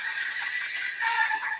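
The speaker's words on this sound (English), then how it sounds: "I was just sanding down the Polyflex with some 150 grit on a palm sander" A palm sander with 150 grit paper works over a Polyflex surface, a brief steady rasping rub heard close and alone.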